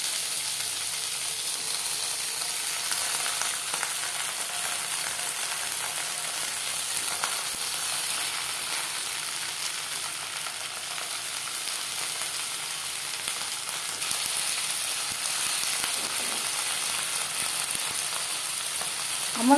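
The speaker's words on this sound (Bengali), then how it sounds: "পাতুরি ভাজবার জন্য 1 চামচ সরষের তেল" Fish paturi frying in a pan with a spoonful of hot mustard oil gives a soft, steady sizzle throughout, fairly quiet and even with no talking.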